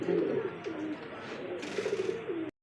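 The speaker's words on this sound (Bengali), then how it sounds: "সিঙ্গেল একটা মাদি কবুতর পাকিস্তানি ব্লাড লাইনে ড্যানিশ কবুতর রেড কালার" A single red Danish female pigeon of Pakistani bloodline coos in low, rolling phrases, close and continuous, before cutting off abruptly.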